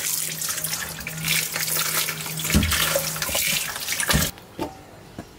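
Tap water runs steadily from a kitchen faucet as beetroot is washed under it, a close continuous splashing stream with handling knocks, then shuts off abruptly near the end, leaving quiet with a small clink.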